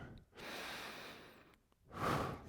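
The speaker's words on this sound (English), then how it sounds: "Nice deep breaths." A person exercising during an abs and glutes workout breathes deeply, with two long, audible breaths separated by a short pause. The breathing is close and moderately loud, with no talking over it.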